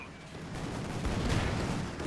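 Anti-tank rifle fire from a PTRS-armed guards squad hitting a Panzer's rear armor in Company of Heroes 2, a dense, continuous wash of battle noise with distant shots throughout, under a faint voice.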